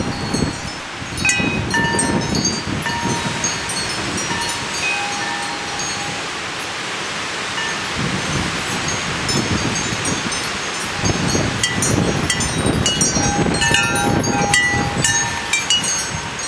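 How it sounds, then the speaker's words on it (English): Strong storm wind blows steadily in Florence, Oregon, a loud broadband roar with gusts and rustling that swell and fade, no voices. "And back at home, the wind was still blowing like crazy."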